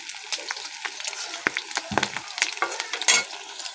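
Chicken pakoras fry in hot oil on a gas stove, giving a close, crackling sizzle with irregular stirring clinks and scrapes and no talk.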